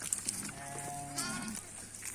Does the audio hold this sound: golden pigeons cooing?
no